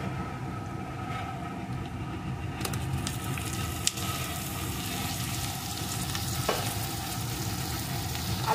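Potatoes and eggplant being stirred into frying onions in a pan, a steady oily sizzle with occasional scrapes and clinks of the spatula, no talking.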